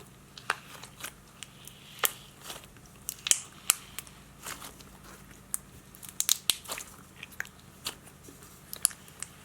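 Crunchy leftover slime is squished and pressed, giving irregular crisp crackles and pops, some close and sharp, over a faint low hum with no talking.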